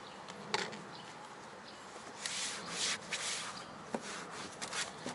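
Black plastic exterior car trim, aged and breaking down, being rubbed with V07 trim restorer: a soft, close, continuous scrubbing and wiping with brief louder strokes, faint and alone.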